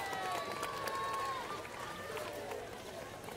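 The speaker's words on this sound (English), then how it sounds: "You can hear the crowds cheering." Crowds cheering runners along an ocean-side course at the Wings for Life World Run in Cape Town, a steady distant roar with whistles and scattered claps, with a commentator's voice talking over it.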